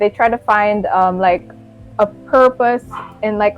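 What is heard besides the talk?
dog barking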